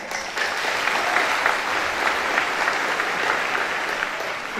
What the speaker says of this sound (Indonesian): beri tepukan